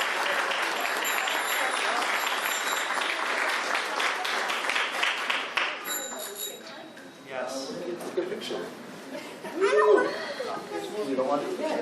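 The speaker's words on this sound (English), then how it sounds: "Round of applause, please." Applause fills a city council meeting in Tacoma after a proclamation, steady clapping from the room with scattered chatter and voices over it as it thins toward the end.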